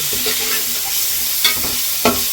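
Onion frying in a pan for rava upma, with a steady close sizzle and two sharp scraping stirs of a spoon against the pan, no talking.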